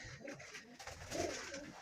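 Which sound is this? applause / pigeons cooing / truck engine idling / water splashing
pigeons cooing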